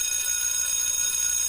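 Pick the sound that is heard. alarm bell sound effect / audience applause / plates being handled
alarm bell sound effect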